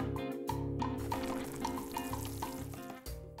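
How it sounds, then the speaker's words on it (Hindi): Cartoon water-sprinkling effect, a bright splashing and dripping flourish with tonal, musical sparkle that runs for a few seconds and stops. "और पानी भी छिड़कूंगी"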